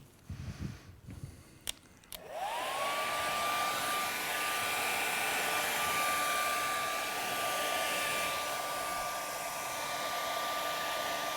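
Hair dryer blowing steadily and loudly on a watercolour painting, a continuous whine and rush of air that starts after a few seconds of small handling noises and runs on without a break.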